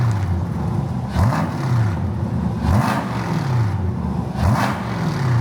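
Corvette engine with an upgraded exhaust, revved repeatedly in close, loud blips whose pitch rises and falls about every second and a half over a rumbling idle.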